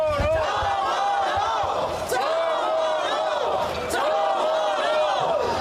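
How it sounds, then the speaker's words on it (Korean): Supporters at an outdoor Korean election campaign rally in Yeouido chant a name in rhythmic unison, loud and continuous, repeating in waves with cheering voices blending together. "연호하고 있는 우리 시민들, 지지자들"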